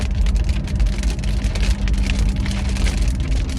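Inside a car on a highway in the rain, with a tractor ahead, a steady loud wash of road and tire noise mixes with a low engine drone and a constant hiss of rain, with no talking.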